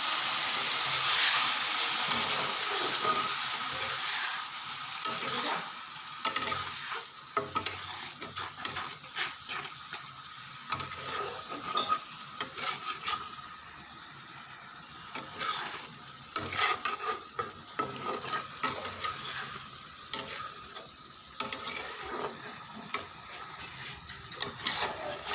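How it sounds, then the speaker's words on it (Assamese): Ginger garlic paste frying in a pan while being stirred, a continuous close hiss and sizzle broken by frequent scraping and clattering spatula strokes throughout, with no voices. "বলক এতিয়া এয়া আদা নহৰু পেষ্টখিনি দি দিছে"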